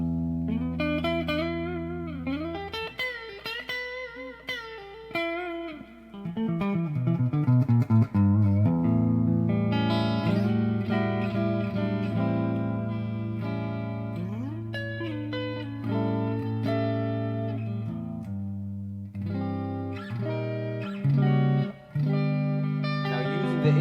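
Electric guitar played through a Peavey ValveKing Micro tube amp with reverb added, sustained chords and melodic lines ringing with a distorted, spacious tone, steady and fairly loud with no talking.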